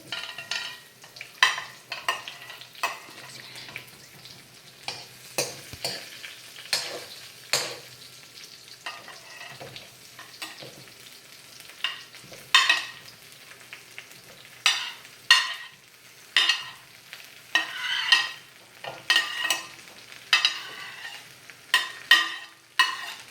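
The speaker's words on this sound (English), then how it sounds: "So first I'm going to add these pre-chopped vegetables." Pre-chopped vegetables for an Asian eggplant stir fry crackle in hot oil in a pan, with a soft steady sizzle broken by repeated sharp spatula scrapes and stirring bursts, close and without speech.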